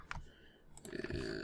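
A computer mouse clicks to download a zip file, several short sharp clicks close by, faint against a quiet background with a little keyboard-like tapping.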